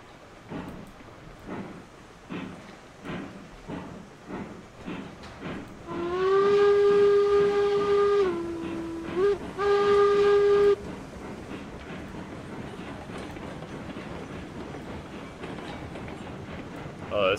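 In the video game RailRoads Online, a steam train chugs slowly out of a station in a steady, deliberate beat, with a long whistle blast cutting in partway through over the ongoing puffing.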